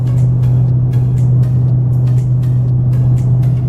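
A 2019 Dodge Charger Scat Pack cruises up a small rise on a bridge, heard from inside as a steady low engine and road drone with faint tire hum, constant and unbroken throughout.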